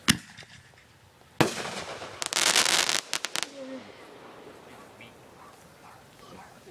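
Fourth of July fireworks going off outdoors, a sharp distant bang followed by a burst of crackling and a few quick pops, then quiet background.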